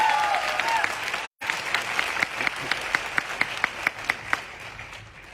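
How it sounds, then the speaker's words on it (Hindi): An audience at an IMC business event applauds loudly together, a dense wash of clapping that settles into a steady rhythmic beat of unison claps. "तो एक बार तालियां जोरदार।"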